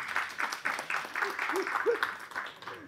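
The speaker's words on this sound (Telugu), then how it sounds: "చప్పట్లు కొట్టండి ప్లీజ్." Scattered, light applause from the audience at a Telugu movie press meet, with loose claps mixed under voices talking nearby.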